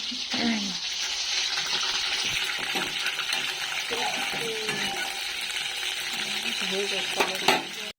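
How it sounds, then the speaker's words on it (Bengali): Pieces of fish for chilli fish fry in hot oil in a pan, giving a continuous hiss of sizzling with scattered clicks and scrapes from cooking utensils. "আর এখানে আরও বসিয়ে দিয়েছি এটা ভাজা হচ্ছে"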